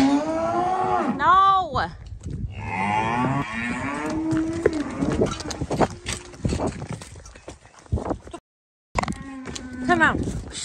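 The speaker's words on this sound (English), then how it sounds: "We're just moving some really unruly bullocks to try and get them up there, and they're just naughty." Unruly bullocks being herded on a farm moo loudly in several long, wavering calls, near and far, with people calling and shushing between them and some rustling movement.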